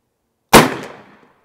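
An AirForce Texan air rifle fires once after a silent pause, a sharp, loud crack that decays quickly into a short ringing tail.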